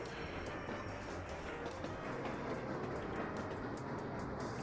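Game train from Sweet Transit rolling along rails, a steady low rumble with faint rhythmic rail clatter, continuous and moderately quiet throughout with no talk.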